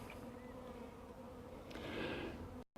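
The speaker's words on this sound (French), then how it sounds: "toutes les abeilles qui tournent ici en rond" A dense, steady hum of many honeybees buzzing close by around a hive entrance, swelling slightly near the end before cutting off.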